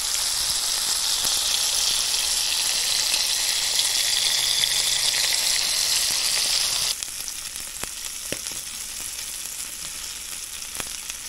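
Breaded sunfish fillets frying in a pan, a steady bright sizzle that drops sharply in intensity partway through, leaving quieter crackling and occasional pops.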